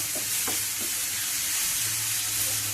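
Continuous close frying sizzle as a chili mixture cooks in a pan, with a few soft scraping stirs and no voices.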